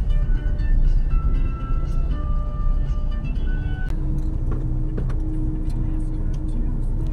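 Road traffic rumbles and hums close by on a street in Tarlac, with steady engine drone and passing vehicles under occasional soft voices.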